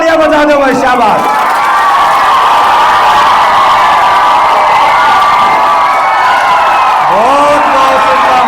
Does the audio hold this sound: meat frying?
no